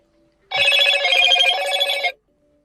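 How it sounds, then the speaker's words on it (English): A Motorola Signature phone rings with an electronic ringtone, one loud, close burst lasting about a second and a half, with silence on either side. "Now the phone will start ringing."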